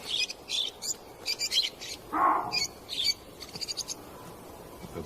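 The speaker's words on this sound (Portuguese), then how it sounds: "Periquitos se abrigam na sombra das rochas." Parakeets call among rocky river cliffs with short, bright chirps scattered through the clip, and one louder, rounder call stands out partway through over a steady outdoor background.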